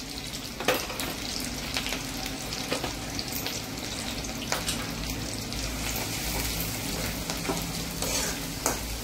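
Finely chopped garlic sizzles steadily in a hot pan, a continuous close crackle with occasional stirring scrapes and no one speaking.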